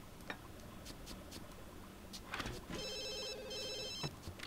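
A mobile phone rings in The Sims video game, with a faint electronic chiming tone sounding in two bursts over steady game background noise and soft clicks.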